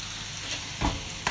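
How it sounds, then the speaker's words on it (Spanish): Cubed ham and mushrooms sautéing in a pan, a steady close sizzle with a couple of brief stirring scrapes. "Y sofreímos esto un poquito y ya le añadimos la menestra de verduras."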